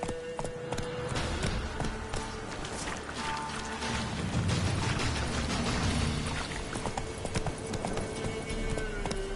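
Roach the horse gallops in The Witcher 3 on PS5, a steady rapid clip-clop of hooves close up and fairly loud, running without pause over a dense game backdrop.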